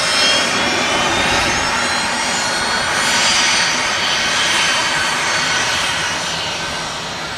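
A Pilatus aircraft engine at Manchester Airport, a steady, loud turbine-propeller roar with a broad whine that holds for several seconds and eases slightly toward the end, with no voices over it.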